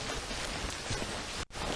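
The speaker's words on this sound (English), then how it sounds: "It's gone into heavy rain." Heavy rain falls in a dense, continuous hiss with no voices, cut by one brief dropout near the end.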